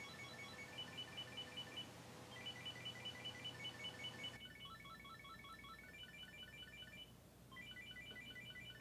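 A Chipolo Plus Bluetooth tracker rings from inside a laundry basket, with repeating bursts of bright electronic beeping melody, muffled and fairly faint, over a steady background hiss.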